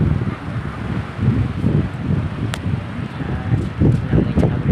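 Steady, gusty wind rumbles and buffets the microphone through an open bus window, with low roaring noise and occasional faint clicks.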